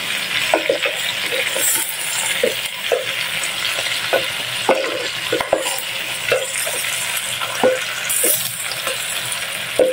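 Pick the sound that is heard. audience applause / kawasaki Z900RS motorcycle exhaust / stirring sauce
stirring sauce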